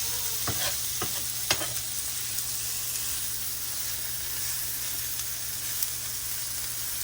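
Meat fries in a pan with a loud, steady, close sizzling hiss, a few spatula taps early on, then an unbroken frying sound.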